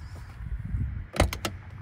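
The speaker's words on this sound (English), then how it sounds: "even when you hear the door open" A supercar door opening with a sharp mechanical clunk followed by a couple of quick latch clicks, heard close over low background rumble.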